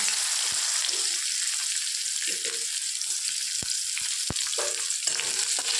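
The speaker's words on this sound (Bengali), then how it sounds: "এবার পেঁয়াজটা দিয়ে দিলাম।" Sliced onions fry in a pan for a pointed gourd recipe, giving a continuous bright sizzle with occasional soft stirs and a few sharp clicks, close and even, with no talking.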